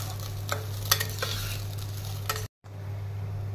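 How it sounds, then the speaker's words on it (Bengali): A utensil scrapes and stirs rice inside a metal pressure cooker, with a steady low hum underneath and a few sharper clinks before a brief pause. "প্রেশার কুকারের মধ্যেই আমি একটু নাড়াচাড়া করে নেব"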